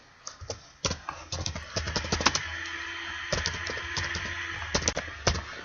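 Rapid bursts of typing on a computer keyboard while setting up a Minecraft prison server, clustered key clicks in irregular runs with short pauses, fairly close and clear with no talking.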